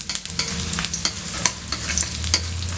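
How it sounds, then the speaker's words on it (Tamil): Curry leaves and a green chilli fry in hot oil for a chutney, a steady crackling sizzle with sharp pops and spits, close and fairly loud, with no voices. "பொரிக்கும் போது ஒரு இனுக்கு கருவேப்பிலை போட்டுக்கலாம்"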